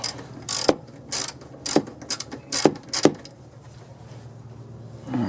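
A hand ratchet backs bolts off a Yamaha Bear Tracker ATV, close and clicking in quick, uneven bursts with short pauses between pulls.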